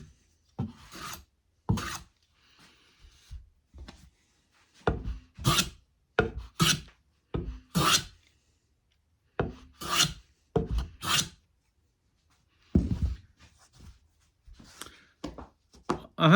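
Hand planes, two number 4 models, shaving wood end grain: a series of short, crisp rasping strokes in irregular bursts, close and clear, with brief quiet gaps between passes.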